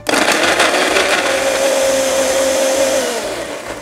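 A blender grinds radish and anchovies with water, a loud close whirring roar that holds steady and then winds down near the end, with no one speaking.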